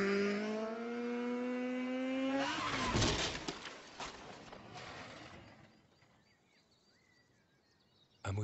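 In GTA V, a motorcycle engine revs up through rising gear whines, then tires squeal and skid in a loud burst. The noise fades to a faint rumble and ends with a sudden sharp hit.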